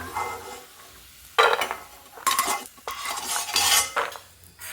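Roasted almonds scraped and stirred out of a hot pan into a dish with a metal spoon, loud repeated scraping and clattering bursts over a faint sizzle, with no talking.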